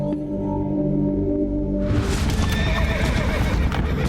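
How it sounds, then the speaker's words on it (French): Horses neighing and whinnying loudly with hooves clip-clopping over rough ground, several animals close by, the hoofbeats becoming dense and continuous in the second half. "Les chevaux sont inutiles sur un terrain accidenté comme celui des gorges."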